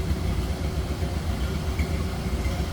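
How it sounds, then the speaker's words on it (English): A 1931 Ford Model A sedan's 201 cubic inch inline L-head four-cylinder engine idling, a steady, close, low rumble that holds an even throb throughout. "Sounds like you'd expect a Model A to sound"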